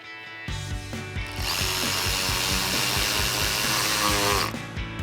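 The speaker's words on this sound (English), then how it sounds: "So we'll get our front one back in place and get that tightened down." A power tool tightening a seat mounting screw inside a 2015-2020 Ford F-150 cab, a loud close whirring drive with rapid clicking, steady for several seconds.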